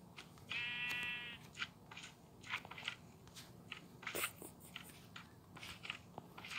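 One drawn-out sheep bleat from a Minecraft game, fairly faint, followed by soft crunchy clicking and rustling game sounds with no talking.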